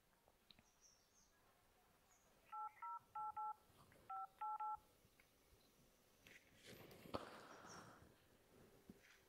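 A phone keypad beeps through a run of about seven short dialing tones in quick, uneven succession. The tones sound against a quiet outdoor background with faint birds chirping.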